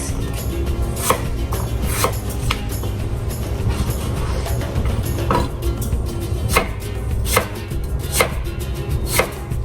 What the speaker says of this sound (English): Use the back of my knife so I don't dull my blade